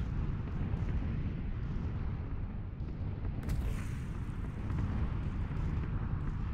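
Deep, continuous rumbling of bombs landing in a PUBG bombing zone, a steady heavy roar with a faint sharper blast partway through, distant and sustained.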